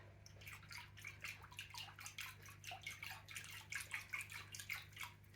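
Aquarium water with treatment added is stirred by hand, giving soft, continuous splashing and sloshing with a steady low hum underneath and no talking.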